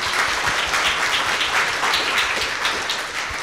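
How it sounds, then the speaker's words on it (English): An audience claps loudly to close a lecture series session on the Indo-Pacific maritime region, a dense, continuous round of applause filling the room with little speech. "Please join me to give a round of applause to Professor Till."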